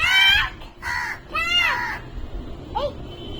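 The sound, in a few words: crow cawing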